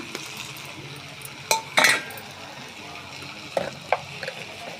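Tomatoes are stirred into fried onions in a pan while making Andhra fish curry (chepala pulusu), giving a few sharp metallic scrapes and clanks over a quiet background sizzle.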